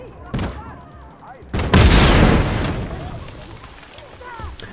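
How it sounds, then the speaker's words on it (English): A grenade blast in Just Cause 3 erupts as a loud broadband boom partway through, fading into a long rumbling tail, with scattered gunfire crackling before and after amid faint game noise. "Let's get a grenade and chuck it up there."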